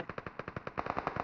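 Rapid automatic gunfire in PUBG on the Erangel map during a competitive match, a fast, even burst of about fifteen shots in just over a second, moderately quiet and without talk.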